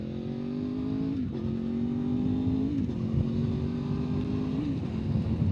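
A V4 motorcycle accelerates on a mostly straight test track, its engine note climbing steadily through gears with brief dips at each shift, loud and close throughout.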